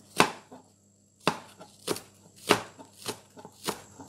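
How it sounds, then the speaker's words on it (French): A knife finely chops green onion on a board, sharp distinct strokes in an uneven rhythm, about eight close, crisp chops with a short pause early on. "Fine comme des ciboulettes. Alors, on coupe comme ça."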